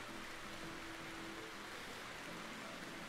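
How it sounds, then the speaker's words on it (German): Foggy rain ambience in the RimWorld video game, a faint, even hiss of rainfall with a soft low rumble underneath, steady and unchanging throughout with no voices. "Aber ich glaube, nebliger Regen ist auch neu in Alpha 17, oder?"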